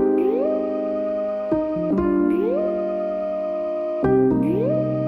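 Gliding sine-wave Serum synth layered over sustained piano chords in a chill beat, the slide rising and falling twice over the harmony, full and close with no speech.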